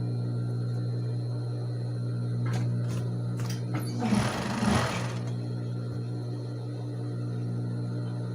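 A sewing machine stitches the side seam of a ballet leotard, a steady quiet mechanical whir with a short louder burst of fast stitching in the middle, faint and close with no talking.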